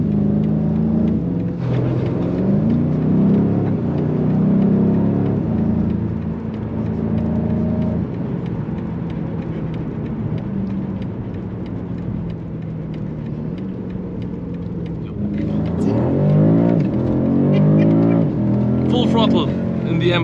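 A BMW M5 CS engine drones steadily at speed on the Nürburgring, a loud, continuous in-car roar with shifting revs and a sharper surge of revving near the end, heard under ongoing talk.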